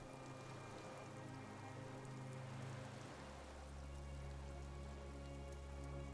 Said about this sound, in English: A drop of rain falls on a black log of an extinguished campfire.